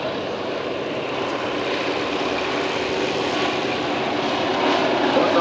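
Several Antonov An-2 radial-engine biplanes fly in tight formation at an air show, a steady loud propeller drone that holds constant and swells slightly toward the end, with no voices over it.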